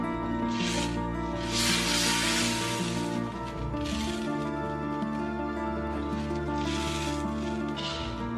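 Thin rohu fish curry with stalks simmers in a pan, giving a soft bubbling hiss with irregular surges of sizzle throughout, heard at close range under a steady low hum.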